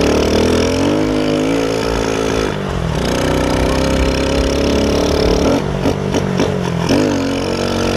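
A Moby moped engine revs hard while riding uphill in a wheelie. It gives a continuous buzzing drone up close, with pitch rising and dipping as the throttle changes.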